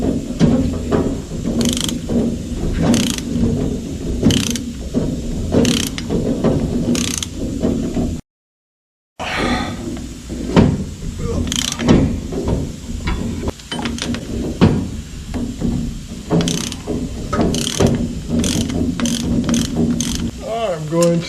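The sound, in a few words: ratchet tightening old nut on rear gear install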